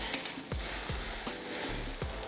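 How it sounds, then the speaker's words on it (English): A spoon stirs sugar into thick oil for a homemade body scrub, making soft gritty scraping strokes close up, about five repeated sweeps at a steady pace, with no talking. "Then give that a stir."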